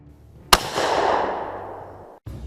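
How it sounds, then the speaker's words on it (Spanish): A single sharp gunshot cracks out, followed by a long, washy echo that fades over about two seconds before cutting off. "se escuchó un disparo"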